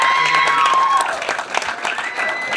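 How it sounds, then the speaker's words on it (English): An audience claps for teachers and organizers of a vocational school, a short burst of crowd applause with a voice and a tonal sound briefly audible over it early on. "So a big round of applause for all of them."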